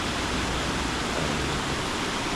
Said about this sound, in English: There's many waterfalls like this one here.